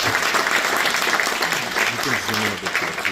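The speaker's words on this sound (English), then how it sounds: "round of applause for all the nominees." Steady applause from an audience at an entrepreneurship awards ceremony honoring nominees, dense clapping continuing throughout with voices mixed in beneath it.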